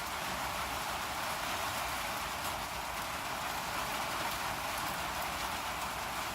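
Rain drums steadily on a tin roof, a dense, even hiss of countless drops that stays loud and constant throughout with no voices.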